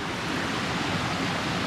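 A small mountain stream flows on Mount Roraima, a steady broadband rush of water, close and continuous with no pauses.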